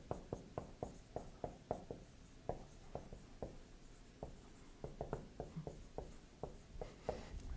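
Chalk or marker taps and strokes on a lecture board in a quiet room, a series of short, crisp, fairly faint hits with a steady rhythm.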